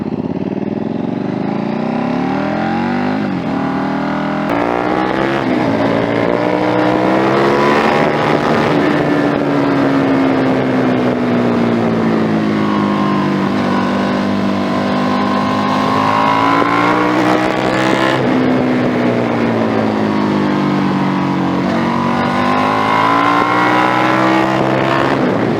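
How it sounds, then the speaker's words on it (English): A 2011 KTM RC8 R motorcycle engine revs and accelerates continuously, its loud, near pitch climbing and falling through gear changes as it pulls away, with wind noise over the microphone. "Bike sounds so fucking good."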